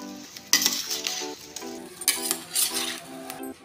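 Mango pickle ingredients with garlic and raw oil being mixed together, giving scraping, wet stirring strokes in irregular bursts with faint clinks, over a steady tonal hum.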